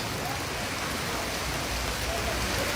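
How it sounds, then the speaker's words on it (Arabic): Rain falls over Marrakech, Morocco in a continuous, broad wash of patter and hiss, steady and fairly loud throughout with no voices over it. "أمطار الخير على مراكش،"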